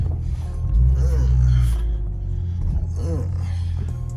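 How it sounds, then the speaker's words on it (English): A deep, steady car exhaust rumble idles underneath, with someone talking over it throughout. "I think he got the exhaust done in it too"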